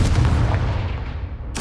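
A Confringo blasting spell explodes in the game Hogwarts Legacy, a loud deep boom with a rumbling decay, followed at the end by a sharp new burst.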